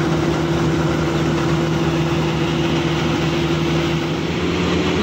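A parked John Deere tractor engine idles nearby, giving a steady, loud mechanical hum with a constant low droning tone throughout and no speech.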